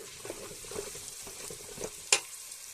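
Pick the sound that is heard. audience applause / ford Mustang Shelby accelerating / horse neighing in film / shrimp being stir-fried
shrimp being stir-fried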